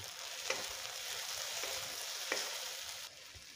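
Onion, tomato, ginger-garlic paste and curry leaves sautéing in a pan, a continuous soft sizzle with occasional faint stirring scrapes.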